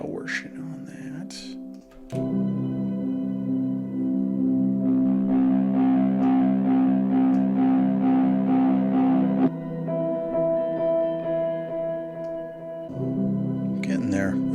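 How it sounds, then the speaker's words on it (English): Sustained distorted synth tones with a gritty, processed edge, holding steady chords for several seconds; brief talking at the start and end. "I think what I'm going to do is put a bit of distortion on that."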